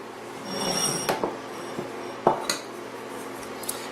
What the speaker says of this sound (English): So I'm going to portion up a bowl of soup for you